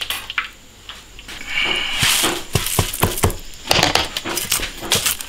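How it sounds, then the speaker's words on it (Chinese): Fried Sichuan peppercorns and dried chilies being chopped with a cleaver on a board, a series of sharp, irregular knocking chops at close range, some quick and clustered, some spaced apart. "炸香了，捞出来剁碎，"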